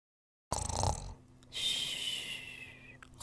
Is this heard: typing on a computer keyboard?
no